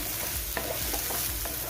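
Maggi masala sizzling as it fries in a pan, a loud close hiss broken by quick scraping stir strokes, with no one speaking.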